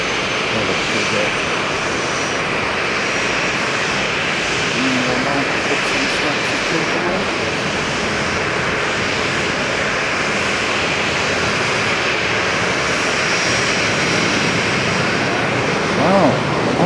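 An airplane takes off from a runway at Haneda airport, a broad sustained engine roar holding steady and loud throughout.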